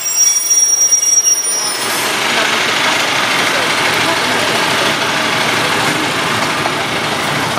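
A train pulling out of Pontefract Baghill station, heading for York, builds into a loud, steady rumble of wheels and engine after a quieter start, with a high squeal running continuously at close range.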